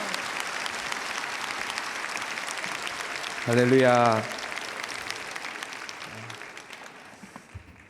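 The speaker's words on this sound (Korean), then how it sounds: "감사의 박수" A church congregation at a Sunday worship service applauds in a steady, broad wash of clapping throughout, with a voice briefly calling out over it midway.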